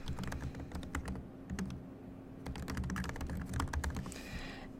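Rapid typing on a computer keyboard while entering an assignment title in Google Classroom, with dense clattering keystrokes in quick bursts, close and steady, no talking.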